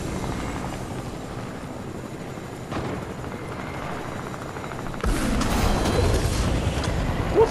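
A helicopter in a video game, a continuous rotor thrum that surges louder partway through, with no talk over it.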